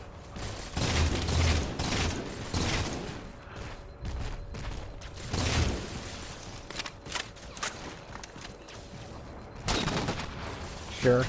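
Sniper rifle fire in Halo 4 cracks out in sharp, loud shots spaced a few seconds apart, mixed with other combat gunfire and mechanical clatter, with a voice talking at times.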